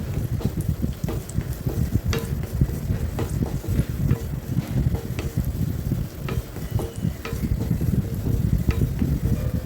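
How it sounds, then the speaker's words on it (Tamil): Cashews and raisins frying in ghee for semiya payasam, a close crackling sizzle with frequent stirring clatters and scrapes in an uneven rhythm, moderately loud with no voices. "இப்போ நம்ம உலர் திராட்சையை சேர்த்து வறுத்துக்கலாம்"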